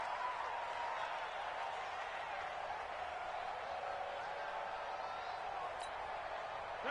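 A home stadium crowd at a football game roars steadily, a dense, even wash of distant noise that holds for several seconds without a break.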